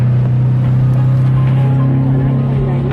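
A car engine drones steadily at close range, a loud, even low hum that never changes throughout.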